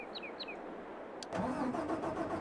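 A vehicle engine in the farming game Landwirtschafts-Simulator 22 cranks briefly and catches about halfway through, then settles into a steady mid-pitched running hum after a quiet stretch.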